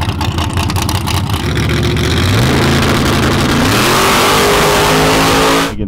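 A 1000hp nitrous-fed drag car engine revs hard and very loud up close, its pitch climbing steadily through a sustained roar before cutting off abruptly at the end, with no talk over it.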